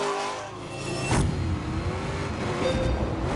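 A Hennessy-tuned Camaro with a 1,000-horsepower engine in The Grand Tour video game, its engine note droning steadily with a rising rev swell partway through, loud and continuous with no talking.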